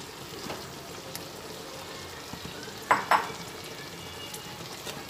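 Jackfruit pieces are stirred into a tomato-sauced mixture in a frying pan, a soft continuous sizzle with a couple of sharp utensil scrapes and clinks against the pan midway.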